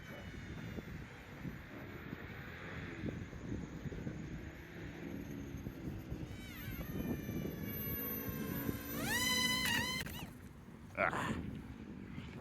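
A cheap $55 RC plane flying at low throttle, a thin buzzing motor drifting near and far in gusty wind, rising to a sharp whine near the end.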